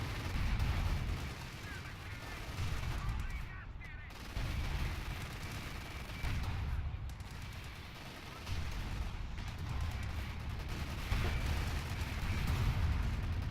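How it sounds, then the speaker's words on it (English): Heavy cannon fire and explosions rumble through a WWII video game tank battle between a Cromwell and a Panzer IV near Caen, dense and continuous low booms with brief gaps, voices faintly underneath. "Over here we got a tank battle. Cromwell battling it out with the Panzer IV and the Kubelwagen."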